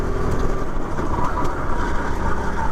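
Racing kart engine heard from onboard during the closing laps of a race, a steady loud drone with broadband roar and faint higher whine, continuous throughout with no speech.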